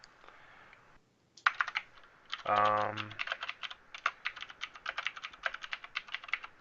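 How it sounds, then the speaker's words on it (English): Rapid clacking keystrokes from a mechanical keyboard, close and loud in quick irregular bursts, with a brief spoken syllable partway through. "Sorry for the loud typing. I love my mechanical keyboard."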